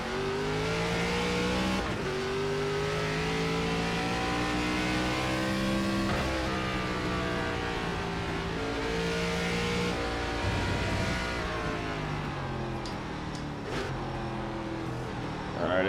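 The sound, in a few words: ARCA race car engine and downshifts in iRacing video game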